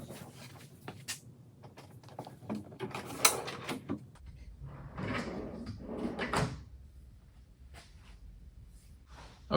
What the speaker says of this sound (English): Okay, let's see if drawer number 4 fits.